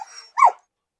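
A single short pointer dog bark in the video game BitLife, with a yelping, slightly whiny tone, close and clear, followed by silence.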